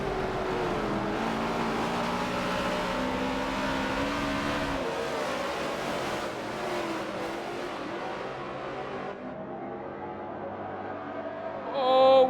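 Race car engines roar together as the green flag starts a BRL championship round at Maple Valley in a racing video game, a loud sustained droning pack that thins slightly midway and then swells with a brief rev at the end.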